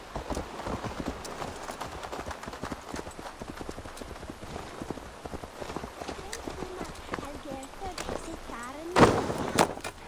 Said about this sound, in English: But it is a beautiful horse.